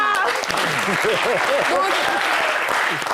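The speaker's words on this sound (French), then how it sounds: "On applaudit." A TV studio audience applauding a player introduction on a Côte d'Ivoire talk show: dense, loud clapping mixed with excited shouts and whoops, continuing for the whole stretch.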